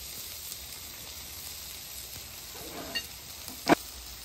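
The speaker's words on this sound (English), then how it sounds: "Lay some of that ham on the cool side of the griddle to start warming it up." Ham slices warming on the cool side of a breakfast griddle give a faint, steady sizzle, with a couple of brief clinks or scrapes near the end and no one talking.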